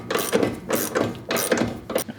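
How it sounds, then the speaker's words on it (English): Ratchet torquing down a bolt on a HEIDTS chassis frame, a close series of loud clicking pawl bursts in repeated strokes with short gaps between pulls. "let's go ahead and torque this one down"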